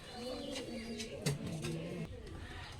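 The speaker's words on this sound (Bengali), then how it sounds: "এগুলা কি কবুতর ভাই? এগুলো হচ্ছে ভাই জাগদোবাজ।" Jag dobaj pigeons coo close by, low rolling coos repeated several times over soft background chirps.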